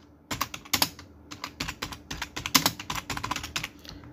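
Someone types a full name on a computer keyboard: quick, close keystroke clicks arrive in bursts with short pauses, with no talking.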